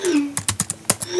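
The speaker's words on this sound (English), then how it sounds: "I'm just typing rubbish there and it's responding" Typing on a computer keyboard: about half a dozen crisp, close keystrokes tapped in a quick, irregular burst. Faint tonal computer sounds are heard at the start and end.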